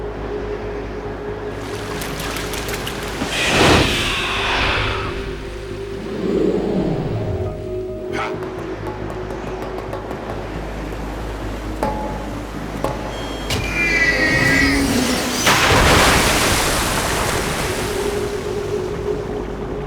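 A boat runs across open water in the video game Metal Gear Solid 2, a steady engine and wash churning beneath splashing surf, with louder surges midway and again near the end, no voices.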